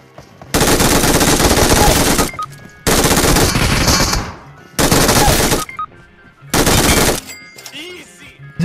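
Gunfire in PUBG, four loud sustained bursts of rapid automatic fire separated by short gaps, each lasting one to two seconds.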